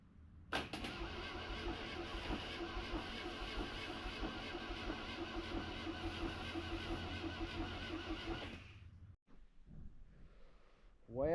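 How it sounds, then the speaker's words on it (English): A 1972 Volkswagen Beetle engine with weak compression cranking over on the starter, a steady whirring churn for about eight seconds before it cuts off, followed by quiet and a faint rising sound. "we're getting ready to crank this thing over and see if this thing will run"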